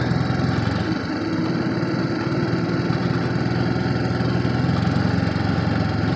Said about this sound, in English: Now we've got a slight idle